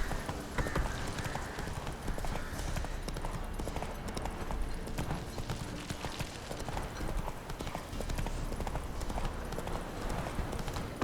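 Roach, the horse in The Witcher III, gallops with a steady, rapid clip-clop of hooves that runs without a break for the whole stretch, close and fairly loud, with faint voices now and then underneath.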